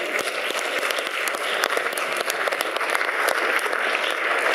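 Sustained audience applause at a queer film festival presentation and short-film award ceremony in Florence, a dense wash of many hands clapping steadily throughout, fairly close and even in loudness.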